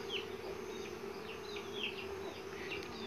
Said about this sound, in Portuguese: Agora eu já tenho 4 abelhas Uruçu boca de renda